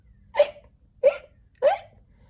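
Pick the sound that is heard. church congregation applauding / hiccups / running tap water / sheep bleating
hiccups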